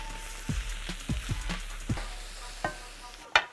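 Mushrooms seasoned with salt and black pepper get stirred in a pan. A quiet sizzle runs under several soft knocks and scrapes from the spoon, then a sharper clack at the end.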